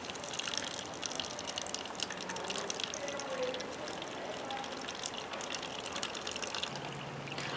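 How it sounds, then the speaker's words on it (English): Excess water pouring off a jar of sprouting seeds, a steady splashing gush that runs for several seconds at moderate loudness before tapering. "And then I'm going to pour off some of the excess."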